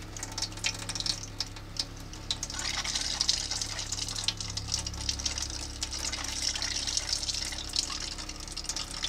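Steady stream of water running from a camper's hot water faucet, a continuous hiss and splash that holds close and fairly loud throughout with no talking.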